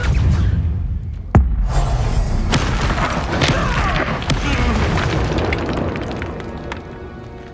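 Depulso force spell cast in the Hogwarts Legacy video game: a sharp booming impact early, followed by crashing, rumbling blast debris and scattered pops, loud and close, with no talk over it.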